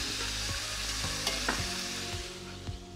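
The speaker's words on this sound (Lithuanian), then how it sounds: "Nu štai kepa jau apie 5 minutės, tai pažiūrėkit, kaip gražiai jie skrunda." Chicken wings frying in oil in a kazan, a dense, loud crackling sizzle with rhythmic scraping knocks from stirring every half second or so, close up and without voices.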